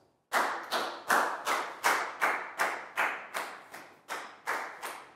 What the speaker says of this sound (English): Big round of applause for Lackow